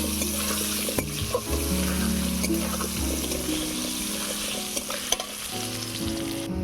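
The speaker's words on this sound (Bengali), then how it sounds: "এবারে আলুটাকে ভেজে নেব।" Potatoes seasoned with salt and turmeric sizzle and fry in hot oil in a kitchen pan, with a steady crackle and a few sharper clinks and stirring scrapes, no one talking.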